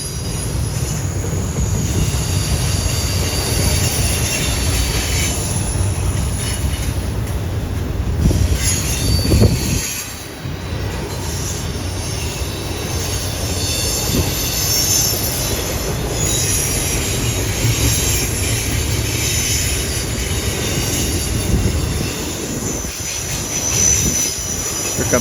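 A long intermodal freight train on the Henderson subdivision rolls past close by, with a loud continuous rumble of wagons, squealing wheels and some clickety-clack, sustained throughout without talk.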